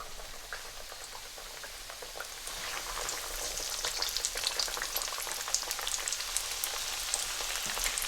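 Vegetarian Punjabi samosas fry in hot oil, the bubbling starting soft and growing into a dense, crackling sizzle full of rapid pops, close and continuous with no talking.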